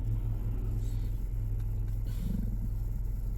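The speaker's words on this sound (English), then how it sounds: "Now, what is this car doing?" A car passes on a road, giving a steady low engine rumble and road noise throughout, with a faint scrape partway through and no voices.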